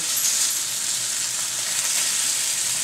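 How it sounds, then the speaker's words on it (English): Steak and onions sizzle in a hot pan with a dense, steady hiss that stays loud and even throughout and has no talking over it. "Steak cooking, and it's okay to have some of the onion go caramelize, turn brown."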